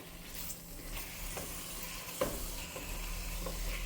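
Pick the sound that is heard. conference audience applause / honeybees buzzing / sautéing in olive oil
sautéing in olive oil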